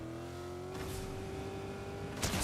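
A modified car in a video game drives along with a steady tonal engine hum, the pitch holding through most of the stretch before a sudden rising rev surges at the end.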